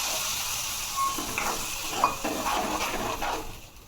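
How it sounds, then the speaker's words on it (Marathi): Water poured into a green mung bean curry makes a soft hiss and sizzle in the pan, broken by light clinks of a utensil against metal, quiet and close. "यामध्ये आता थोडंसं पाणी टाकू,"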